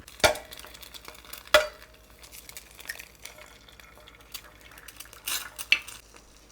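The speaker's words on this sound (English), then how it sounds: "we're going to crack 2 eggs" Two sharp cracks of eggs being broken against a hard kitchen surface, heard close and clear with a gap between them, amid light clinks of dishes and utensils while making old-fashioned sandwiches.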